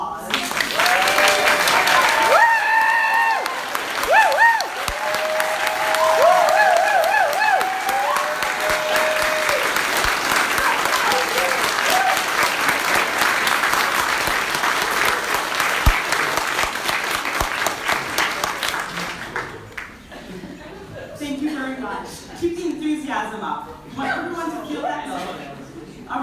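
An awards-ceremony audience at the Aurora Awards applauds standing nominees with sustained loud clapping that fills most of the span, then tapers off into scattered claps and murmuring voices.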